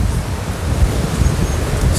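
Atlantic Ocean surf rolls in at Praia das Campas beach in Tamandaré, Pernambuco. Wind rumbles against the microphone over a broad, constant wash of breaking waves, with loud low-end buffeting throughout.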